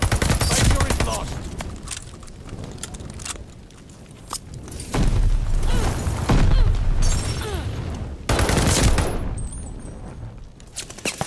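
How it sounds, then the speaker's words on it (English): Call of Duty: Vanguard multiplayer match fills with rapid automatic gunfire and heavy booming blasts from a grenade explosion, loud and close, in repeated bursts over several seconds with brief lulls between. "Throwing grenade."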